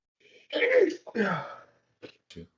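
A sharp sneeze bursts out, followed by a second shorter burst, then a couple of faint brief sounds; fairly close, with no talking.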